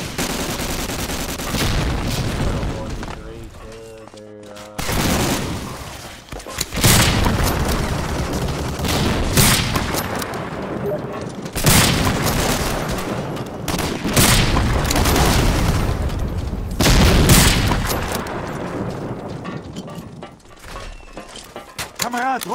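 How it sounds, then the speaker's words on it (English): Rocket fire and gunfire in Medal of Honor: Allied Assault online multiplayer, loud repeated bursts of shots and explosive blasts crashing throughout, with voices talking over the dense battle noise. "I shot that rocket."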